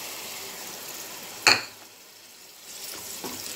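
Ground tomatoes sautéing in a pan for chicken gravy give a constant, close frying hiss, with one sharp clatter of a utensil partway through and a softer scrape near the end.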